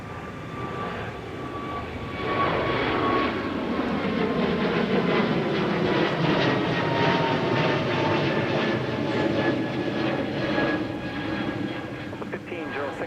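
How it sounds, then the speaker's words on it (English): A Delta Airbus A220-100 departs from runway 30 left at Minneapolis–St. Paul Airport, its engine roar swelling after a couple of seconds and holding strong and broad before easing slightly, heard from a distance and alone. "we got another 30 left departure. This is Delta 1506 to Chicago O'Hare with an A220-100 in charge"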